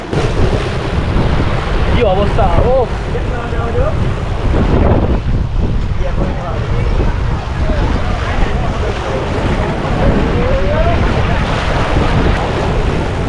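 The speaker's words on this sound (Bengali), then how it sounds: "এখানে স্রোতটা দেখতে পাচ্ছেন একবারে মানে এই গোমতী নদীর স্রোত" The Gomti river's strong current surges where it meets the sea at Dwarka, a loud, continuous churning roar of waves with heavy wind buffeting and a brief spoken remark.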